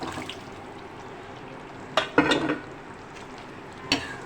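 Boiled, tenderised mutton goes into frying masala for achar gosht: a quiet pan sizzle broken by a few sharp clatters and a burst of stirring and scraping of meat in the pot near the middle.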